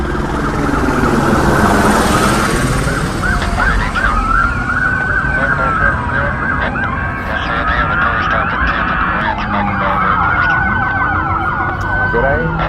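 Police car sirens wail loudly and continuously outside a mall in Miami, several overlapping sweeping tones rising and falling close by, with no talk.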